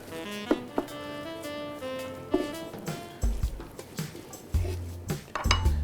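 A spoon stirs chopped coriander back into a millet mixture in a bowl, giving light metallic clinks and scrapes at irregular intervals over soft background music, with no talking.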